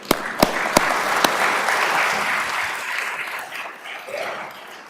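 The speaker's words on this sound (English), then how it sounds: "So that's a round of applause." Audience applause at a Certified Public Manager program graduation ceremony: a few sharp, close claps open into a full, steady round of clapping from the crowd that gradually tapers off.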